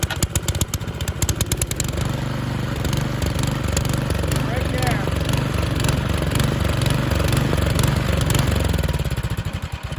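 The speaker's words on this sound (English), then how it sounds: "and then I'll show you when it's surging." A snow thrower engine starts with rapid chugging and then runs loudly and close, its pitch rising and falling in uneven waves as it surges, with a voice speaking briefly over it.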